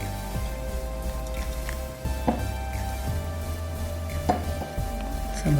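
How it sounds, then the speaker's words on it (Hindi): Onions being added and stirred into a pot of Hyderabadi beef dum biryani, a steady soft rustle with a few light clinks and scrapes, heard up close with no talk. "दोबारा से थोड़े से प्याज डाल देंगे।"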